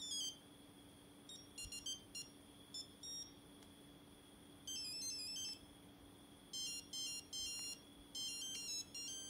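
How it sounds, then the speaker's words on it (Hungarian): A mobile phone plays a beeping electronic ringtone in repeated bursts of quick high tones with short pauses between them. It is faint and heard alone. "Mai napig így csörög a telefonom."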